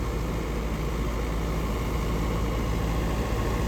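A New Holland 850 tractor engine drives a wheat thresher through its PTO, a steady, loud, broadband mechanical roar with a low rumble and no pauses.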